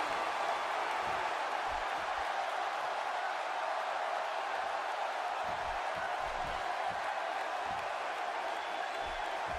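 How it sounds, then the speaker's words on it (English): A video game arena crowd from WWE 2K17 roars and cheers continuously at a wrestling event, a dense steady wash of noise throughout. "by the sound of this crowd, I think they're getting what they wanted"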